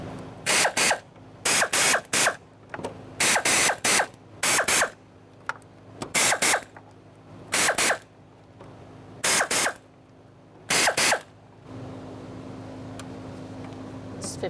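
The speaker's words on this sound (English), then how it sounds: "so let's snug these up and then we'll torque it to 52 inch-pounds." Hand ratchet snugging the retaining bolts on a 2002-2006 Toyota Camry fuel pump strainer assembly, heard as about nine close, loud bursts of rapid clicking separated by short pauses over a low steady hum.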